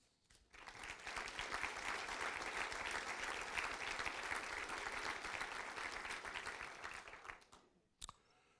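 A large audience at a FEMA administrator awards ceremony gives a final round of applause for the 2015 recipients, a steady, full roar of clapping that starts abruptly, holds for about seven seconds, then stops, leaving a faint click.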